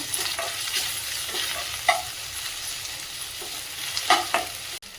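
Ginger, garlic and finely chopped onion sauté in a pan, a low continuous sizzle with occasional scrapes and taps of a spoon stirring nearby, no voices.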